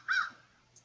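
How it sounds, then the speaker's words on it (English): A single bird call from outside an open window, a short bright cry near the start followed by a faint second note, heard alone at low level. "I have a bird outside my window, and I have the window open."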